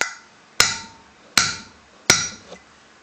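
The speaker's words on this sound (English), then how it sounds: "Hammer it a couple times." Inner bearing race for a 1997 Volkswagen Cabrio hub being driven in with a hammer: three sharp metallic strikes, evenly spaced and close, each ringing briefly before fading, followed by a faint tap.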